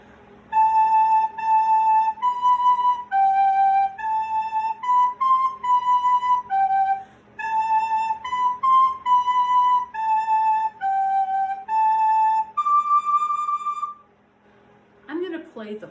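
Soprano recorder playing a slow, simple tune of steady sustained notes, closing on a long held high D, clear and close, followed by a brief rustle.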